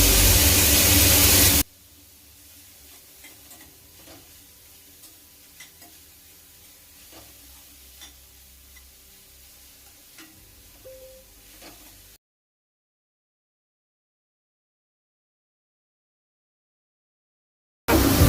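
Onions, grated carrot, grated beetroot and green chillies fry in ghee with a quiet, steady sizzle and occasional stirring clicks. A loud burst of noise comes before it, and a long silence follows.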